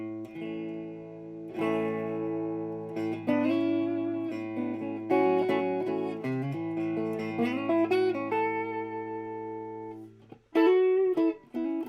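A guitar played clean through a Bandmaster amplifier with no effects rings out in chords and single notes, close and moderately loud, with pauses between phrases and no talk.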